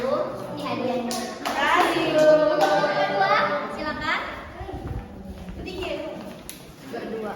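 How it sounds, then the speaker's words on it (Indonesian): Children in a Grade 3 classroom clap in applause, a patchy burst of small hands near and moderately loud, with a teacher's voice and kids' chatter running over it throughout. "Kasih aplaus dulu untuk mereka"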